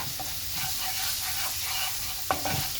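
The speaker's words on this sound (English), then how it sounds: "So just put in a little bit of jeera seeds, and now let it cook for at least 2 to 3 minutes." Cumin (jeera) seeds sizzle steadily in hot oil for cabbage sabji, a continuous bright crackling hiss with a few sharper pops near the end, close and unbroken by any talking.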